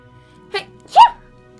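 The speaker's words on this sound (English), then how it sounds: "I need to sneeze." A person sneezes: a short sharp inhaled catch followed by one loud, close, voiced sneeze burst against near silence.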